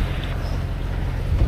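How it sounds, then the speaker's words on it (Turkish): Strong wind of about 25 knots buffets a boat departing the Greek island of Agathonisi, a steady low roar of wind and water noise rising slightly toward the end, with no talk. "Rüzgar 25 knotlarda."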